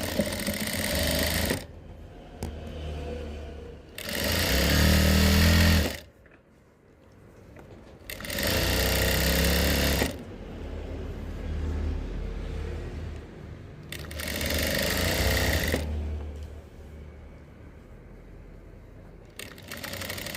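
A sewing machine stitches the slit of a pair of cigarette pants in four loud, steady runs, each a few seconds long. Quiet pauses separate the runs, and no one speaks.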